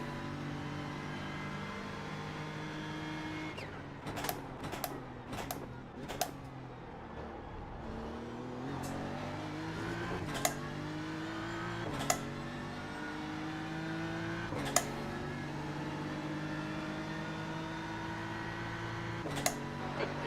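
GT3 race car engines roaring around Sebring in a racing video game, a steady drone of revving and gear changes with several sharp clicks or shifts punctuating the sound, with no talk.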